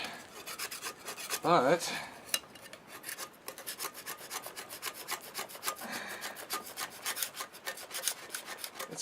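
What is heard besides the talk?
2-inch putty knife scraping a Jeep cylinder head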